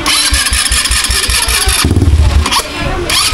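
A motorcycle-like farm vehicle fitted with an exhaust pipe starts up loudly and close, sputtering into a rough rumbling idle with uneven pulses and a brief dip before settling again.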